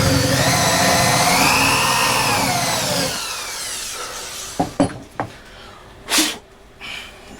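Power drill boring into wood with a Forstner bit during a kit build, a loud grinding whine for about three seconds, then stopping, followed by several sharp knocks and clatters as the workpiece and tools are handled.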